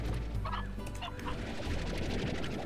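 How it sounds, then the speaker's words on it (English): A speedy chicken in the video game Slime Rancher clucks and gobbles in quick bursts over a constant loud game background hum. "that's a speedy chicken"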